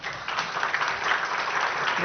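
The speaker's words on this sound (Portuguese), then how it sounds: "Palmas, gente." Conference audience in Brazil applauding as a speaker is called to the stage at a risk management event, a steady, moderately distant wash of clapping throughout, with a voice briefly audible at the end.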